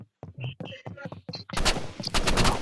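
A sniper rifle fires in Roblox Rivals after a short burst of talk, with a run of loud, sharp shots crackling close together through the second half.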